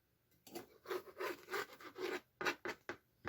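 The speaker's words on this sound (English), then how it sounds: "obviously you just gently rub the knife through the foam" A slightly serrated unboxing knife gently rubbed through packing foam, giving a series of close, rasping sawing strokes in a steady rhythm, each stroke a short scratchy burst with brief pauses between.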